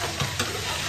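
Peas and onion frying in tempering oil for poha, a loud, steady close sizzle with a couple of brief stirring scrapes and no talk.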